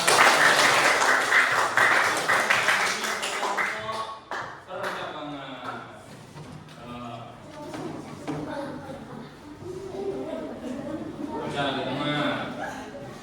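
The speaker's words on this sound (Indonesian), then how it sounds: "1, 2, 3, kasih tepuk tangan" A class of children applauding in a classroom lesson, dense loud clapping for about four seconds that fades into chatter and laughter, with lighter scattered claps returning later under voices.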